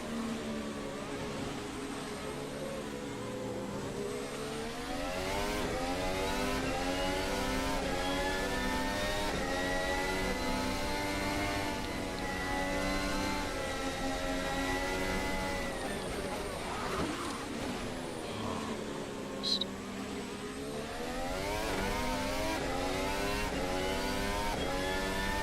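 An F1 race car engine in a racing video game, revving up and down through gear changes in long sweeping rises and falls, a high whining drone that stays prominent throughout.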